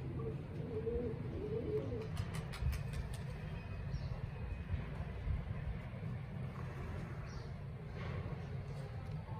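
Pigeons cooing softly amid a steady rumble of outdoor background noise, with faint traffic and distant activity throughout.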